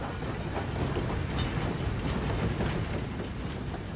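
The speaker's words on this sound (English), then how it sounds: "Marshal Foch's special train enters the station of Compiègne" Marshal Foch's special train pulls into the station at Compiègne, north of Paris, in November 1918, giving a steady, loud rumble of rolling wheels and carriages that continues without a break. No one speaks.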